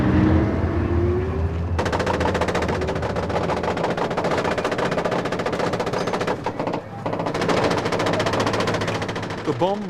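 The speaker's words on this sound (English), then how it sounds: "a blizzard of machine gun fire into the almost empty streets" Heavy machine gun fire from Israeli forces sweeps almost empty streets in southern Lebanon in 1985, a dense, unbroken roar of rapid bursts that rattles on for the whole stretch with a brief dip midway.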